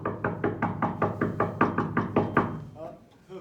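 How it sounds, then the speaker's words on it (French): Rapid knocking on a spaceship door in an improvised science-fiction stage scene: about a dozen quick, evenly spaced raps in a steady run lasting over two seconds, close and clear, then stopping. "ça frappe à la porte du vaisseau, je crois"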